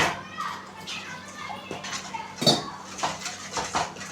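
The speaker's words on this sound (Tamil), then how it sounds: "தண்ணி கொஞ்சம் நல்லா நிறைய ஊற்றி கரண்டி வச்சு நல்லா மிக்ஸ் பண்ணிக்கோங்க" A metal ladle stirs egg gravy (muttai thokku kulambu) with water and rock salt in a cooking pot, giving several short clinks and scrapes, the sharpest one midway, over a steady kitchen hum.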